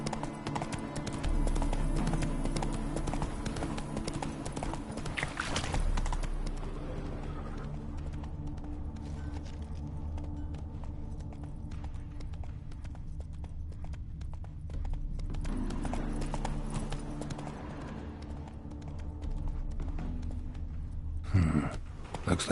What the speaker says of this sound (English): Heavily laden horse.